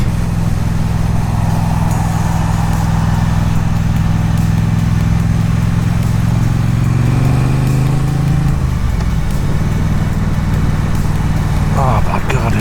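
A 2020 Triumph Street Twin motorcycle engine running steadily and close while riding, with a smooth, continuous low drone and wind rush, pitch shifting mid-ride as the rider changes speed, and no one talking.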